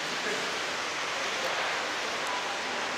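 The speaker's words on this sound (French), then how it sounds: "Waterfalling, c'est la chute d'eau" An indoor waterfall feature in a Sofitel hotel lobby in Bali pours in a steady, dense wash of falling water, close and constant with no break.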